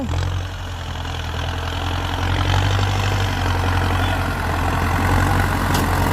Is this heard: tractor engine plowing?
yes